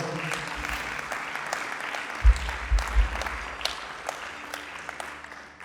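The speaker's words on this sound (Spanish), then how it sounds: "Dele fuerte el aplauso al Señor." Congregation at a Pentecostal evening church service applauding, a steady broadband wash of many hands clapping at moderate distance with a few louder low thumps midway.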